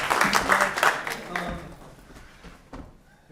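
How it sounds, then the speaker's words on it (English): Brief round of applause at a wine event with live music, a burst of clapping that fades after about two seconds, followed by a lone late clap and near silence. "everybody give a big round of applause."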